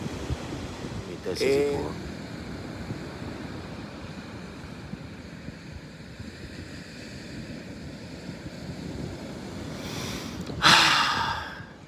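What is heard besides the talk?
wind blowing at camper outdoors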